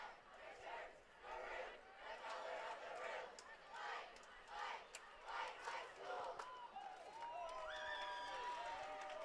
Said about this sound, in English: these optimistic fans continue to cheer out for the Maroon squad